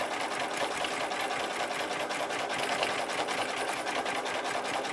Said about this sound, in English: A few stitches at the end.